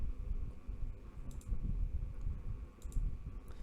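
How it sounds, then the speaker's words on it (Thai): Keyboard typing from a horror video game comes as a few faint, scattered key clicks over a low rumbling game ambience. "ถ้ามันมีกดคอมมันจะมีเสียง เสียงกดคีย์บอร์ด"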